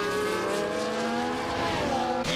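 Formula 1 race car in the F1 24 video game accelerating hard on a wet, rainy track in Austria, a steady loud engine whine rising in pitch with a brief shift near the end, no talk.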